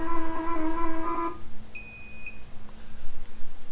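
A quilting machine gives an obstruction error: two beeps, a longer buzzy tone, then a brief high-pitched beep over quiet background hum.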